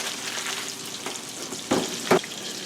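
Salisbury steaks browning in a frying pan, a steady broadband sizzle throughout with two short louder scrapes or stirs near the end, no talking.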